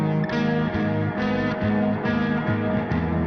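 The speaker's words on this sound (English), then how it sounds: "your guitar's out of tune" An out-of-tune electric guitar track sits in a dense rock mix, its distorted chords pulsing in a steady repeating rhythm, loud and continuous, with no voices.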